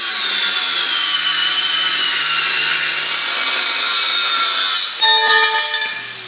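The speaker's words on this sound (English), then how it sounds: "I'm going to cut these sidearms off so I can weld them at a slightly different angle" Continuous rough cutting noise as metal sidearms are sawn off a tow bar, steady and loud up close, ending with a brief metallic ringing as the cut finishes.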